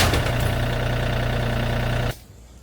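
A heavy diesel tractor engine idles loudly with a steady low rumble, then cuts off abruptly near the end, leaving quiet.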